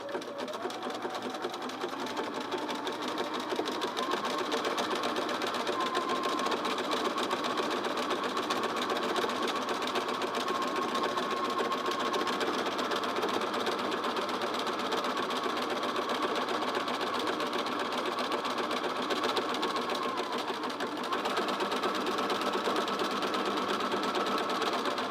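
A Bernina sewing machine stitching steadily for a long stretch, its fast motor hum and rapid needle chatter continuous and even, with only brief dips in pace.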